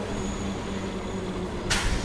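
A Narasapur-Vijayawada MEMU train rumbles steadily at a station, a loud, even rolling drone with a sharp hiss bursting in near the end.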